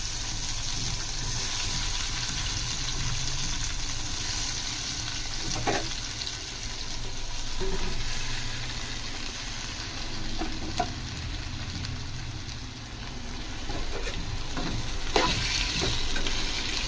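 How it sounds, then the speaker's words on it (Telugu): Chopped tomatoes sizzle and fry steadily in hot oil over a medium flame for a Telugu tomato chutney, with a continuous crackle and occasional stirring clinks, close up. "ఆయిల్ బాగా హీట్ అయిన తర్వాత ఇందాక నేను కట్ చేసి పెట్టుకొని ఉన్న టమాటాలు మొత్తం వేసుకోండి ఫ్రెండ్స్."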